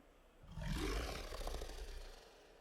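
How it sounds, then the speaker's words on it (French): A breath sound transformed by AI into a lion's roar: one deep, swelling roar that rises quickly, holds for about a second and fades out, close and alone. "c'est le même souffle passé dans Morphosis avec un modèle de lion"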